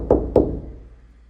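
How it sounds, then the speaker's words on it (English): Two quick, close knocks on a door, sharp and evenly spaced, followed by a short fading decay into quiet. "See if he responds to my door knock."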